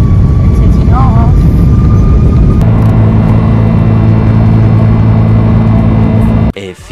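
Airplane taking off, a loud steady engine roar heard from inside the cabin that builds after a few seconds and then cuts off abruptly near the end.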